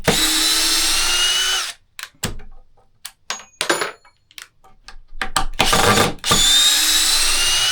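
A DeWalt 12-volt XR impact driver sinking 3-inch screws, loud whirring hammering bursts of several seconds each, separated by short clicks and taps as the screw seats.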